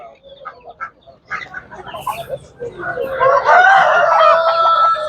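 Chickens and roosters at a poultry market, with clucking and short calls at first that swell into loud, dense, overlapping crowing and squawking from a crowded flock. Faint voices are mixed in.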